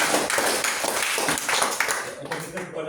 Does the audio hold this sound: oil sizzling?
no